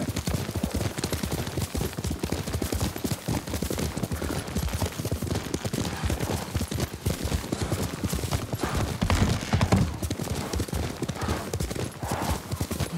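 Horse hooves on a ridden mount in Ghost of Tsushima, a dense, continuous run of close clip-clopping beats at a steady gallop-like rhythm lasting throughout, with no talk.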